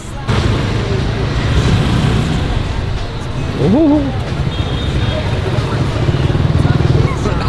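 Busy Hanoi street traffic of motorcycles and cars makes a steady, loud roar, and a horn blares briefly around the midpoint. People talk over the traffic throughout.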